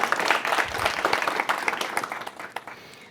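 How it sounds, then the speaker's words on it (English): A tech-meetup audience at a Flutter event applauds a speaker, a dense patter of clapping that stays fairly loud before thinning and fading out within a few seconds. "So let's give him a big round of applause and many more."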